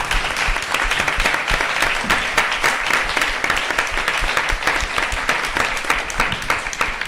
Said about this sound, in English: Everyone giving a round of applause for the author.